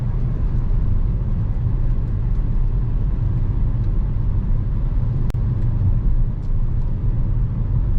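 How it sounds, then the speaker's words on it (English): Hyundai Kona N 2022, a 280 hp SUV, driving at night in normal mode, its exhaust a steady low rumble that stays even and fairly loud throughout, with one brief sharp tick partway through. "I think here you want to listen to the sound of exhaust"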